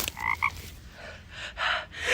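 A frog gives two short, close croaks in quick succession, followed by soft rustling and handling noises with no talking.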